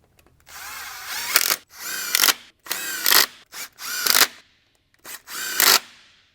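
A power tool drives the six supplied bolts into a Holley mid mount accessory drive on a 1951 Studebaker, sounding in five or six close, separate bursts of whirring, each ending in a sharp rise as the bolt seats.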